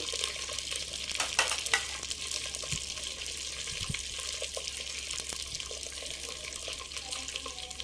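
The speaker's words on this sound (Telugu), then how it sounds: "లవంగాయలు, ఒక 5-6 లవంగాయలు, సాకు అండి, ఆయిల్ గరం మసాలా వేసాను." Cloves and garam masala frying in hot oil, a constant close sizzle with occasional clicks and light scrapes of stirring, with no talk.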